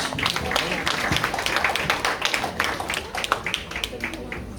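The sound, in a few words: audience applause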